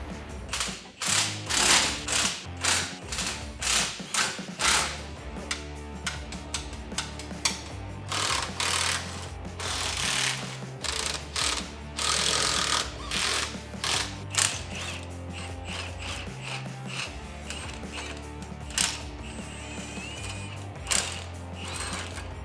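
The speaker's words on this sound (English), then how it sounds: "What bolt are you undoing right now?" Hand ratchet clicking rapidly in repeated bursts while undoing bolts on the rear pinion of a Porsche, close and crisp, with short pauses between strokes over about twenty seconds.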